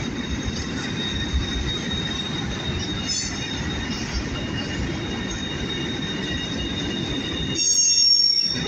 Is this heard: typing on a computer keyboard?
no